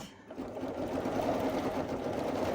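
An embroidery sewing machine stitches a pumpkin design in a hoop, giving a steady, close mechanical whir and rapid needle chatter that runs continuously after a brief quiet start.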